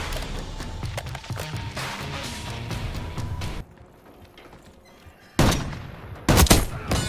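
Gunfire in Call of Duty Black Ops 6 multiplayer: sustained loud bursts of automatic fire with crashes, a brief quieter lull, then sharp close shots returning, no talk.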